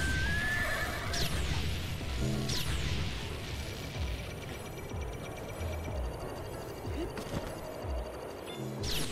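A horse in The Legend of Zelda: Breath of the Wild whinnies loudly at the start, then its hooves clip-clop in a steady galloping rhythm, with game sound effects and clanks mixed in.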